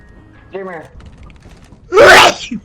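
A single loud, sharp sneeze bursts out near the end during a Lethal Company game session, after a brief voiced sound and a spoken word over a quiet background.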